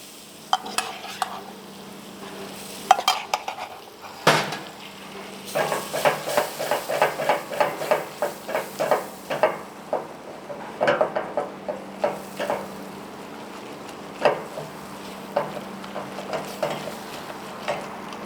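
Wooden spoon stirring flour roasting in melted butter in a pot on the stove, a steady run of scraping strokes with a soft sizzle underneath, close and moderately loud, no voices.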